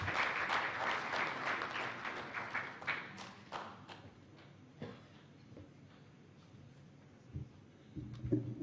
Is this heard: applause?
yes